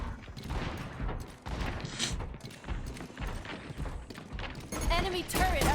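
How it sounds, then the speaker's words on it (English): Torbjörn's turret fires in Overwatch 2, a rapid, sustained stream of mechanical gunshots mixed with other match noise, with a voice talking over it. "now you got a Torb turret shooting at you"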